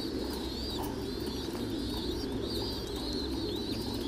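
Thai Titan meat pigeons, squabs among them, coo steadily in a pen, with repeated soft coos and light chirps over a constant background hum; no one speaks.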